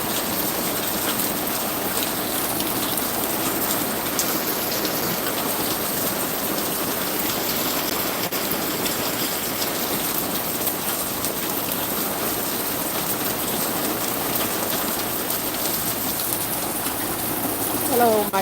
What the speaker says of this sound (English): sheltering from the rain.